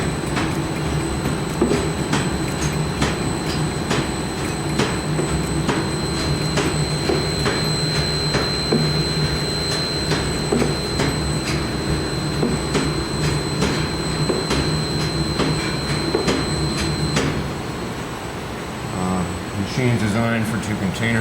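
A custom pharmaceutical-grade container filling machine runs steadily with a dense mechanical clatter and rattle, a constant high whine above it, close and loud, before easing down near the end as a voice begins speaking.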